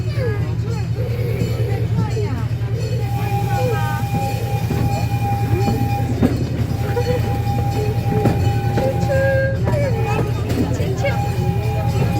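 A park train rolls along its rails at Irvine Regional Park during a pumpkin patch outing, a steady low rumble with faint clacking running throughout while people chatter nearby.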